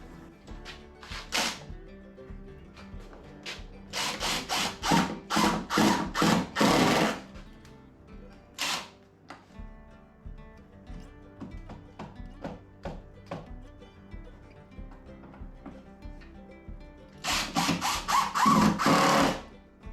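Power driver running in repeated bursts as 2 1/2 inch screws are driven into a wooden post while building a workshop dust collector, several close, loud whirring runs with pauses of quieter handling between them.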